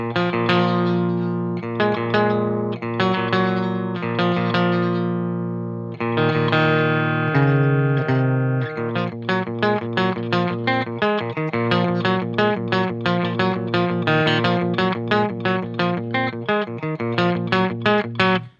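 A clean electric guitar with no effects plays alone through a Mark Tremonti MT100 amp: sustained ringing chords first, then a quick run of plucked, evenly picked notes, clear and close.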